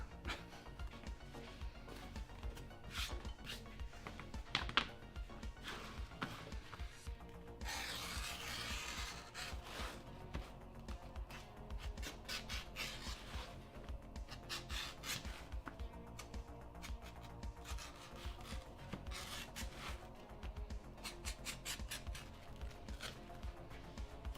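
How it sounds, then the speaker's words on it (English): A dull leather beveling tool dragged and rubbed along leather while forming a canteen, producing a steady, close, quiet scraping rasp that repeats in short strokes for a long stretch without speech. "dull beveling ASMR"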